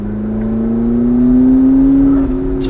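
A McLaren 12C engine pulls under light throttle with a loud, steady drone that rises gradually in pitch, heard from inside the car with no talking.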